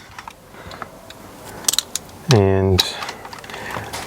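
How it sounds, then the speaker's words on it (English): A screw is backed out of an Audi A6 park brake switch with a few light clicks, then a brief loud ratcheting buzz from a powered driver, close up with a short spoken word. "Undo this screw"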